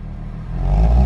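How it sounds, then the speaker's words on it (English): A Nissan 370Z on its quiet stock exhaust is revved lightly, a brief low rumble swelling louder toward the end of the short burst. "Here's an exhaust clip of the 370. I'm gonna be doing a stock exhaust."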